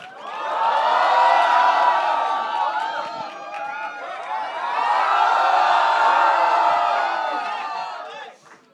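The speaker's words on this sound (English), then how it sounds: "Let's give a loud applause for Mr. Rohit Shetty and Mr. Ajay Devgn" A large fan crowd cheers and shouts at an event with actor Ajay Devgn and director Rohit Shetty, a loud sustained roar of whoops and yells that swells twice before fading.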